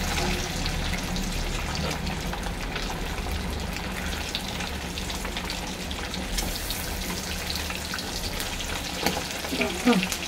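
Double-yolk eggs fry in a pan with a steady, dense sizzle that holds throughout, with light utensil clinks and scrapes near the end.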